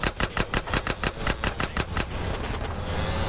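Rapid bursts of automatic gunfire in a Big Smoke mission of a video game, roughly a dozen evenly spaced shots in a quick rhythm that then blur into a steady roar, loud and close with no talk.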